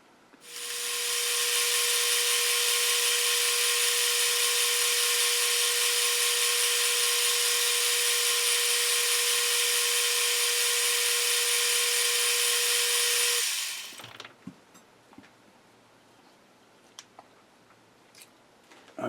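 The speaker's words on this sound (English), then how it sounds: "I'm going to bore through to just beyond this smaller OD and bore it out to nominally an inch" A lathe bores out a rusty metal part to about one inch, giving a loud steady machining whine with strong tonal hum for about twelve seconds, then winding down into faint clicks and handling noises.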